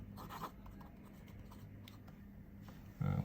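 A Leonardo Corsani fountain pen with a flexible extra fine nib writes on paper, giving a soft, steady scratching close by, then a louder rub near the end.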